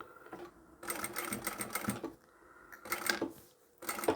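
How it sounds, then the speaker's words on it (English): Bursts of rapid mechanical chatter come from a sewing machine stitching through layers of fabric, with short pauses between the runs as it stops and reverses, close and clear. "I'll backstitch here just to secure those layers"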